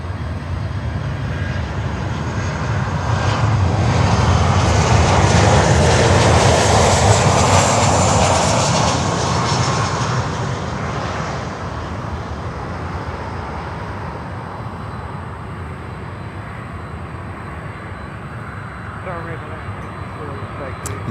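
A Latam Cargo 767 at Miami airport rolls past with a loud, broad jet engine roar that swells to a peak and slowly fades into a distant rumble.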